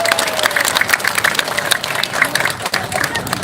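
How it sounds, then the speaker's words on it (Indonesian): An outdoor community gathering in Kampung Gembong, Jakarta, claps for hard-working community workers, a lively patter of many hands at middle distance, with faint murmuring underneath. "Boleh kita beri tepuk tangan untuk mereka."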